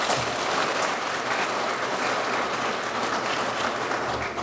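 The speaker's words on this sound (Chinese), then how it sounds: "我也要请大家给他们一个掌声" Sustained applause from an audience at a presidential reception for model workers, migrant workers and their families in Taiwan, dense even clapping from many hands filling the room, steady and loud with no speech.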